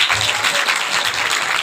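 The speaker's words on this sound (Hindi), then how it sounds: "बच्चे के लिए तालियां" A crowd claps for a child, a short, steady burst of applause that is dense and fairly close, heard alone without talk.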